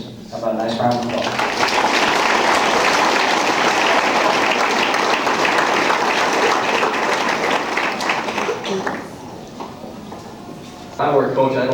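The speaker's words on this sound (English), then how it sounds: "How about a nice round of applause?" Dense, steady applause fills a basketball banquet hall for several seconds at full strength, then thins and drops off before a voice returns at the end.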